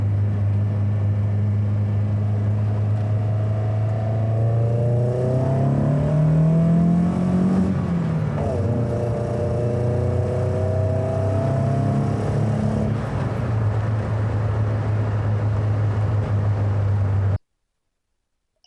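A car engine converted from carburettor to individual throttle bodies, steady low drone rising and falling as it revs during driving, loud and close, then cutting off abruptly.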